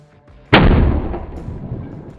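Single rifle shot fired from an ACC stock loaded with internal weights, a sharp, loud blast with a booming, rumbling decay trailing off over about two seconds outdoors.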